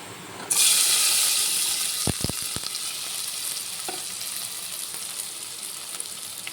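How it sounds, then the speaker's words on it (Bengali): Jackfruit seeds drop into hot oil on a gas stove and set off a loud, close sizzle that softens slowly. A few brief clinks of stirring come through, and nobody speaks. "এখন আমি কাঁঠাল বিচির যে দানাগুলো আছে এগুলো দিয়ে দেবে"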